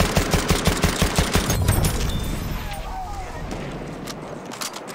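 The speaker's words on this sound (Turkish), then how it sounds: "Bir makinalı tüfek görüldü." Machine gun fire in Battlefield 1 battle: a rapid stuttering burst of automatic shots up front, fading into a rumbling wash of distant combat and debris noise.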